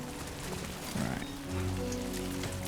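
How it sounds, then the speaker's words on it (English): Steady rain falling across an outdoor landscape in the video game Death Stranding 2, a dense continuous hiss of drops hitting the ground, with a low tonal music drone swelling underneath partway through. "Great. Rain. Gotta move."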